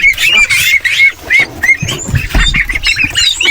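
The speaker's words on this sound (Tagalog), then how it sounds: "Dahil malalaki na yung ating mga alaga na Peking duck, papakawalan na natin dito sa ating malaking kulungan." Peking ducks are let loose into a large farm pen, with loud, close, overlapping squawks and honks from the flock that continue without pause.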